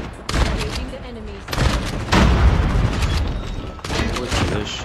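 Gunfire in the Call of Duty video game rings out in several loud bursts of shots, with brief lulls between volleys and a denser rattle of rounds near the middle.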